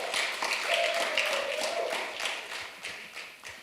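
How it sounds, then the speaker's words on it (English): Audience at a UK-Ghana business forum clapping in a round of applause, a fairly faint, uneven patter that gradually thins out. "So I think they deserve another round of applause."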